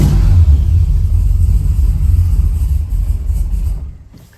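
An LS-swapped OBS truck engine, cold and running on a carburetor, roars loud and close in a deep, steady rumble after a couple of throttle pumps, then drops off sharply at the end.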